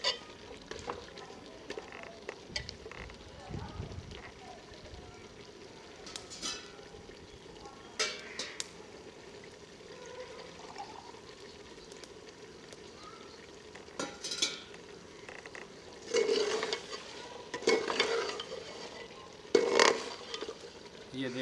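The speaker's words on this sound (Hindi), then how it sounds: "इसे थोड़ा सा भून लेते हैं ताकि इसका फ्लेवर शामिल हो जाए" A goat head is frying in a pan with garam masala, giving a faint low sizzle with intermittent stirring and scraping clatters that grow louder and busier toward the end.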